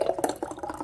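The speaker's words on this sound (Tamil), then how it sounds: "இப்போ கூழை ஊற்றிட்டேன்." Thick ragi (finger millet) porridge is poured briefly in a soft, wet, gurgling splash, close and fairly quiet with no talk.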